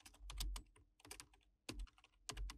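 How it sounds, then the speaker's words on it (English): Quick bursts of computer keyboard keystrokes in uneven clusters, close and clear, with short pauses between runs while VBA code is typed. "Now, I'll type down my VBA code into the module."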